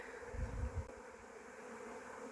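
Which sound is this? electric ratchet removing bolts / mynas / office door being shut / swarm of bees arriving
swarm of bees arriving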